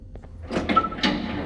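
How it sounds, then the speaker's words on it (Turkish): Doors open in the horror game Garten of Banban 6, with soft clicks followed by two whooshing slides, fairly close, and no talk over them. "Üç kapıyı da açtım."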